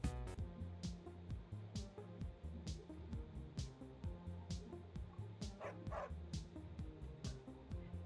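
A dog in the video game Always Sometimes Monsters barks in a steady repeating rhythm, with short yips and a faint whimper between the barks, over a low looping background score and no talk.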